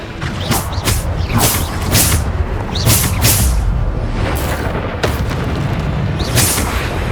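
Repeated booming spell blasts from the Bombarda curse in the video game Hogwarts Legacy, loud and close, with several sharp bursts and rumbling impacts layered over a dense background of game sounds.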